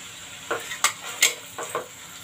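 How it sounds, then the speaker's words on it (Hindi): Ginger, garlic, onion and tomatoes frying in a pan for chhena curry, a light sizzle broken by five or six quick spoon-stirring clinks, close and brief. "इसको देके हम अब भून लेंगे"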